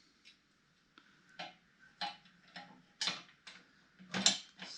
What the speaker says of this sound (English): Put this little screw in.